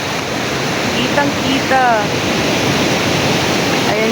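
Ocean waves at a beach in Lian, Batangas, a loud, steady wash of surf filling the scene while a person briefly speaks over it.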